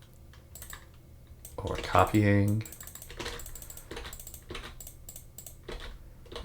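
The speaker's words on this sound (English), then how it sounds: "like scrolling all the way down with the keyboard" Computer keyboard keys tapped in quick irregular clusters at a desk, moderately near, with a person speaking briefly over the typing.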